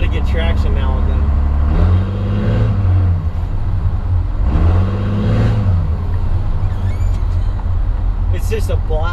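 A diesel truck fitted with a smoke stack exhaust drives along with a loud, steady low engine drone, swelling into two strong revs, while people talk over it.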